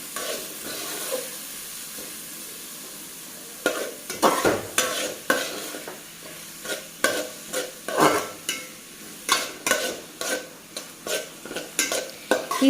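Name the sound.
onions sautéing and being stirred in a pan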